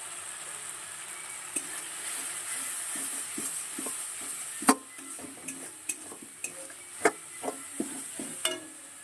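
Turmeric and chili spice paste sautéing in a pan for a Bengali katla fish curry, a steady close sizzle broken by about ten sharp scrapes and clinks of a spoon stirring against the metal, with no talking.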